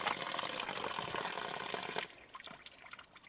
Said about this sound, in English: Fill it up in there. This is my dirty bag. Only dirty water goes in here.